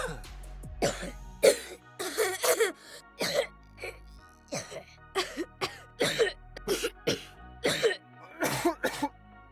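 A person coughs and clears their throat over and over, loud and close, in a series of harsh bursts separated by short gaps.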